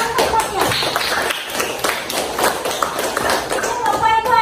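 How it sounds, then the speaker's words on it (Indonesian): Students in a classroom clap together in quick, rhythmic bursts of sharp hand claps, close and lively, with voices mixed in. "Tepuk tangan tempatnya"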